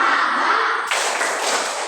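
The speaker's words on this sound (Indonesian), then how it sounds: "Kita tepuk semangat dulu." A group claps out the 'tepuk semangat' rhythm in a classroom session, a dense burst of crisp, close claps that runs continuously for about two seconds with a brief shift partway through.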